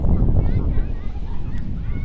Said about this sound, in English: here we have a very strong gust of wind.